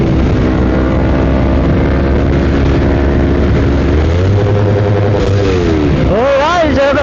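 A stock car engine revs hard and loud, its pitch climbing and dropping in long sweeps, with a sharp rising rev near the end.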